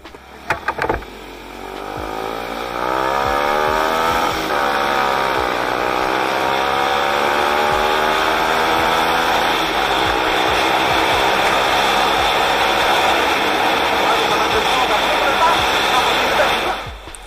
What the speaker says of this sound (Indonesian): jadi itu tadi ternyata masih tetap slip ya, tetap trouble-nya di kopling, slip, dan sedikit nabrak limiter gitu